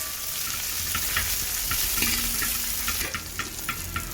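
Grapes frying in hot ghee in a pan, a steady close sizzle with bubbly crackle and scattered light pops throughout, no voices.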